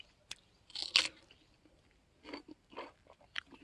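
Someone bites into a freshly picked orchard peach at close range, making a few crisp, wet bites followed by moist chewing.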